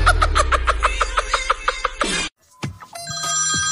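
A telephone rings loud and close in a rapid series of repeating electronic bursts, then stops abruptly and is followed by scattered clicks and other tones.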